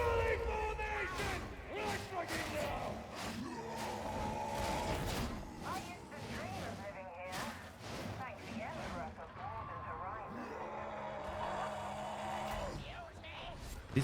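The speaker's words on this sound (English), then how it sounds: "They really need to turn this volume down on the mutants." Mutant enemies bellowing in the shooter Warhammer 40K: Darktide, loud guttural roars and shouts repeating amid gunfire, impacts and combat noise, with a player talking over the action.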